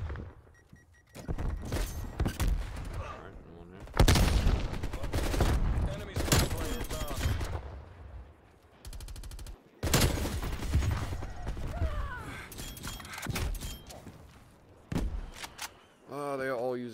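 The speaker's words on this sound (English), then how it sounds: "Oh, they are all using shotguns." Gunfire in Call of Duty Black Ops Cold War rings out in loud, heavy bursts with short quiet gaps between volleys, close and booming, with a voice speaking at times between shots.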